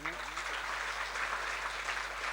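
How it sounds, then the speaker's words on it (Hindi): Audience applause at the inauguration of a science institute in Gangapur City: a steady, dense patter of clapping that holds at an even level for a couple of seconds, with faint voices mixed in. "इनके लिए एक बार जोरदार तालियां।"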